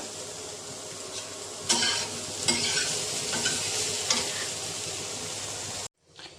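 Potatoes fry in a pan with a steady, close sizzle and a few sharp clinks of stirring, before the sound cuts off abruptly near the end.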